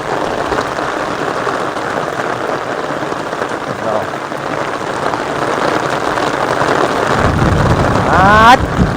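Heavy monsoon rain pouring down in Gujarat, a dense steady hiss close to the microphone, with wind buffeting that swells near the end.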